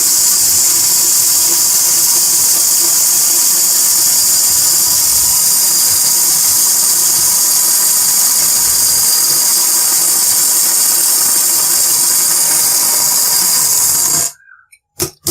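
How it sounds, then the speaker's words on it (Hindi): A kitchen grinder whirs steadily as it pulverises roasted chickpeas into powder, a loud continuous motor drone holding for about fourteen seconds before cutting off abruptly. "एक प्याली भुने हुए चने ले लें, उसे ग्राइंडर में डालकर ग्राइंड कर लें।"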